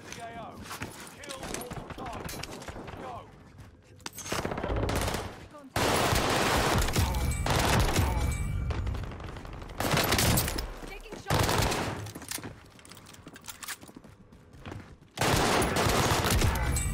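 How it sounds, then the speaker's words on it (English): Heavy gunfire in the Warzone battle royale shooter, with loud bursts of shots from several directions that cut in and out with brief lulls, under a voice talking over the gameplay. "I just got shot from like three different areas at once."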